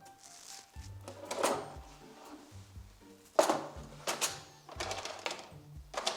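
Kitchen cabinet drawers in a damaged rental house slide and bump, with wooden knocks, rattles and thuds from close by, spread irregularly over several seconds.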